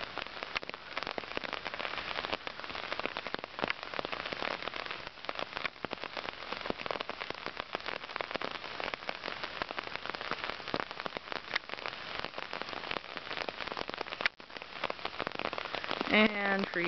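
Rain falls steadily in Minnekhada Park, a dense near patter of drops on leaves and surfaces, continuous and even, with a brief sharper tap near the end.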